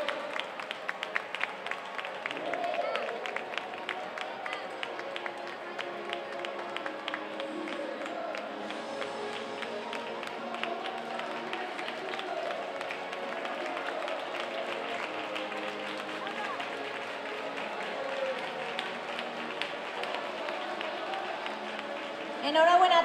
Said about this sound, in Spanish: Un aplauso muy, muy fuerte para ellas.